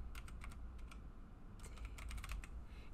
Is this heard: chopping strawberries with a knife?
no